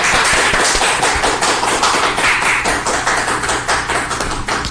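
Dense audience applause fills the hall at a National Foundation Day ceremony in Gyeonggi, Korea: steady, loud clapping from many hands, continuous and close, with no break in the sound.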